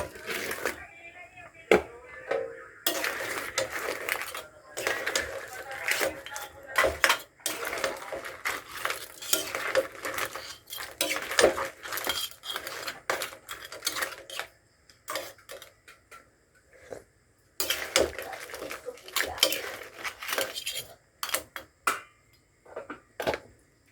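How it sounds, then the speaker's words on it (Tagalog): Crab pieces go into a pot of boiling coconut milk for ginataang sitaw, with repeated clattering, clinking and splashing of shells and a utensil against the pot, close and busy, with brief pauses between bursts and no talking. "ilalagay na po natin yung ating panlahok na alimasag"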